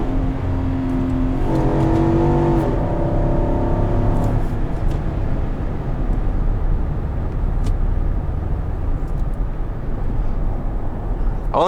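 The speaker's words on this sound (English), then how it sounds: "I only like to do one high rev pull just because it's a newer motor." A 2021 Infiniti QX80 with a seven-speed automatic revs hard in a high-rpm acceleration pull, the engine note climbing for a few seconds before settling into steady road and cabin noise.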